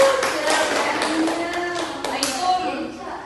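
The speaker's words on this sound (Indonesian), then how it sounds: "Beri tepuk tangan." A group of children in a classroom clap their hands in a short burst, brief tapping claps mixed with a teacher's voice and kids' voices talking over them.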